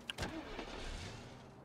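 A car engine cranks and starts in the zombie survival strategy game Infection Free Zone, with a short sharp burst at the start and then a steady, moderately loud engine hum that runs to the end with no talking.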